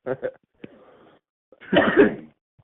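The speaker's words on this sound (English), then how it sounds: "Smoker's cough." A rough, hacking smoker's cough bursts out after a few brief vocal sounds, harsh and throaty, close to the listener.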